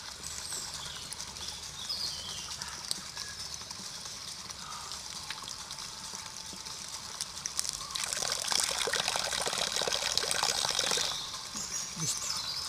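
Water draining out of a hydration bladder during trail running gear prep, a steady soft trickle and gurgle that swells louder into a gush near the end, heard alone without talk.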